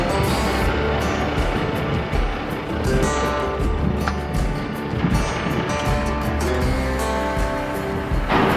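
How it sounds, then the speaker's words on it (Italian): Loud, steady rush of a flooded river pouring downhill in the Canadian Arctic, a broad continuous roar with wind buffeting the microphone and no voices. "C'è un sacco di acqua che si sente scendere."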